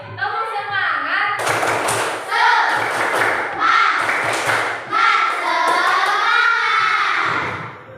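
Children in an Indonesian classroom doing the rhythmic 'tepuk semangat' clapping chant: young voices chanting loudly together, broken by bursts of patterned clapping and thumps throughout.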